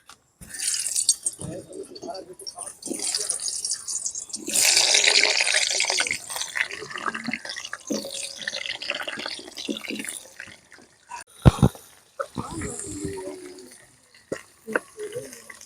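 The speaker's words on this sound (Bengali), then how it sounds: "তেলটা গরম হয়ে গেছে কেটে রাখা আলু দিয়ে দেবো" Cut potatoes dropped into hot oil in a home kitchen while cooking a thin goat curry, giving a loud burst of sizzling and crackling that gradually settles, with a few sharp clatters and some talk over it.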